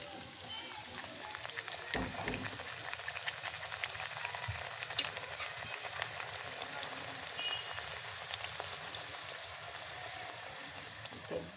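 Luchi paratha deep-fries in hot oil, producing a continuous bubbling, rain-like hiss that stays at an even level throughout, with a brief louder crackle near the start.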